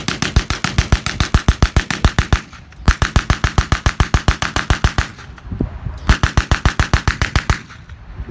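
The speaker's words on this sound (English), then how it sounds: "there's your sort of selection of some of the machine guns that were in service then" Historical machine guns fire loud, rapid bursts at a reenactment, three long strings of evenly spaced shots separated by short pauses.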